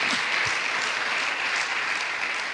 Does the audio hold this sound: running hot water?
no